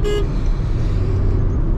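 Honda City i-VTEC car engine after a quick downshift, a close, loud, continuous roar, with a short horn toot at the very start.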